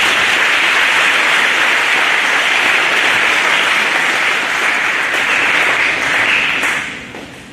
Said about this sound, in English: So please give a round of applause for best hurdler